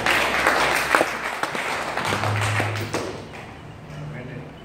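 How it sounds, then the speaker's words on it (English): Church congregation clapping in praise during a worship service, a dense wash of applause mixed with voices and a few thuds, fairly loud and steady throughout. "Let's give another big clap of praise to the Lord."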